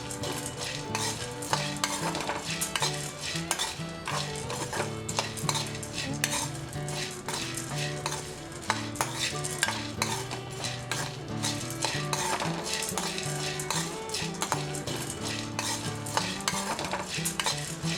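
Roasted gram is dry-roasted in a pan and stirred continuously, giving a busy, close rattle and scrape of dry grains against the metal throughout.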